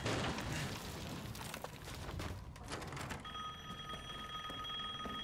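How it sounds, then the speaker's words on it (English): A telephone rings inside the video game Resident Evil Village, its steady electronic ring tones entering partway through over busy, loud game sounds and music. "A phone call? Don't worry, I'll get it."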